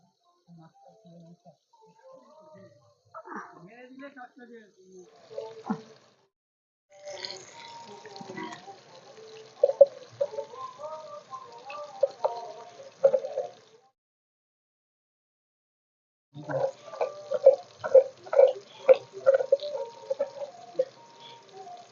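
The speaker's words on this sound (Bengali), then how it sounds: "এবার কিন্তু জলটা ঢেলে নেব জলটা ঢেলে নিলাম" Water poured out during village Bengali cooking for a Poila Boishakh festive meal, splashing and trickling in intermittent bursts with quiet gaps between, close and fairly clear.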